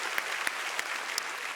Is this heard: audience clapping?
yes